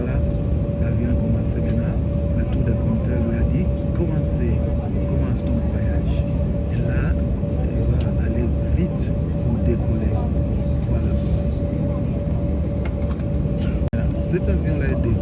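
Jet airliner on a Johannesburg to Durban flight beginning its take-off run, heard from inside the cabin as a steady, loud low roar with a constant engine tone, with people talking over it.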